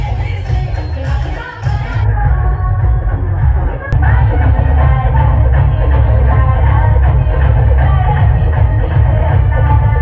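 A large crowd gathers at a Gautami Patil dance show, producing a loud, dense outdoor hubbub of many voices with shouts rising from it, while amplified music and a person talking nearby sit in the mix.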